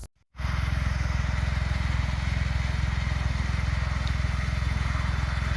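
A Smart car's small engine runs steadily on the road after a brief quiet start, a continuous close, low rhythmic drone with no talking.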